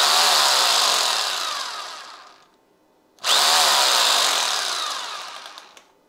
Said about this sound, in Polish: odpalamy wiertarkę